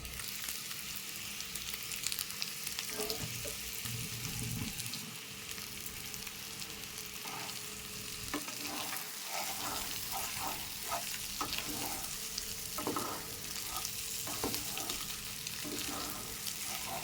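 Butter garlic prawns cook in a covered pan, giving a long, continuous, muted sizzle and bubbling with occasional faint clinks and stirring knocks, fairly quiet and steady with no talking.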